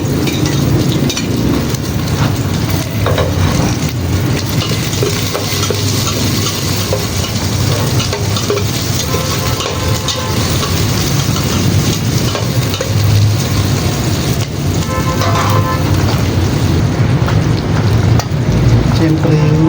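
Garlic and onion frying in hot oil, a loud continuous sizzle and crackle with occasional stirring, steady for the whole stretch.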